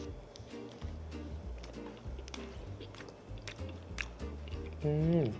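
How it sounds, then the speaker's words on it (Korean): Soft biting and chewing of fresh cream bread topped with Lotus biscuit crumbs, close and quiet, with moist squishy mouth sounds set against low background music. "루투스 부스러기가 들어가 있는 부분을 한번 먹어보겠습니다."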